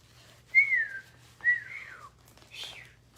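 A person whistles two clear sliding notes, each rising then falling in pitch, followed by a brief breathy sound; close and alone with a faint steady hum underneath.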